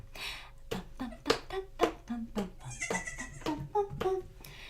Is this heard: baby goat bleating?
yes